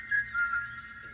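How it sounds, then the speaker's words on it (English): A short, thin whistled tune of a few quick notes, faint and high. "The whistling."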